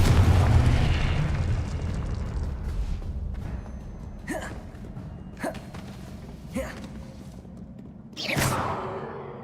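A Confringo fire spell bursts in the video game Hogwarts Legacy, a loud low boom at the start fading into rumble, followed by several short whooshing flicks and a final brighter burst near the end.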